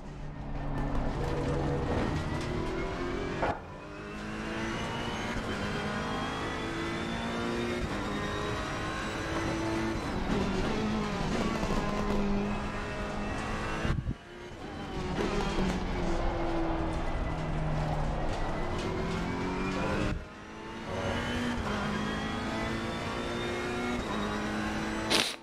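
A Ferrari racing car engine in a video game drones continuously, its pitch climbing and dropping through gear shifts, with brief abrupt breaks where the sound cuts and restarts.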